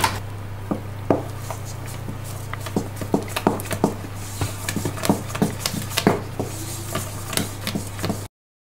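Cheesecake batter is mixed by hand, giving soft, irregular squishing and tapping strokes over a constant low electrical hum.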